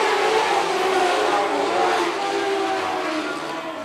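Dwarf race cars restart lap 15 at Phillips County Raceway, their engines making a loud, steady roar that fills the whole stretch and eases slightly toward the end.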